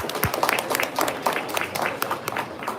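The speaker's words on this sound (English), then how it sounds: "They deserve a round of applause." A crowd at a market hog show gives a short burst of scattered, uneven clapping around the livestock ring, close and fairly lively.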